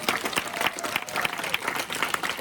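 Church congregation applauding during a Sunday worship service: brisk, close, uneven clapping from a crowd, continuous through the short stretch.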